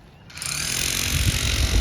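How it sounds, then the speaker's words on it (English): Jackhammer pounding into hard, rocky clay soil during a Central Texas landscaping dig, starting abruptly after a brief quiet moment and then hammering loudly and continuously close by. "they are using a jackhammer and doing amazing work in our hard"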